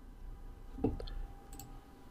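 Computer mouse clicks pressing OK during a local server software installation, a couple of sharp close clicks in quick succession followed by a fainter click, over a quiet room background.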